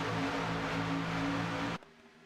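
Race cars at Daytona accelerating hard at the green flag, a dense, loud wash of engine roar that cuts off abruptly near the end.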